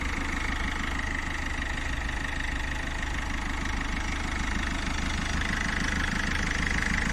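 A 2006 Citroen C4 with the 1.6 HDI diesel engine idles steadily, a close, continuous rumble with a fine rapid diesel clatter throughout, no voices.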